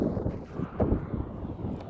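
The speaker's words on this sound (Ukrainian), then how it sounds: "Вітер, напевно, буде задувати. За вітер одразу перепрошую." Low, rumbling wind buffets the microphone, a steady muffled roar with a few brief thumps.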